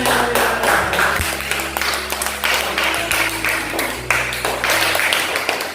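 Students clap together in a classroom, a dense, steady patter of many hands lasting several seconds over a low, constant room hum.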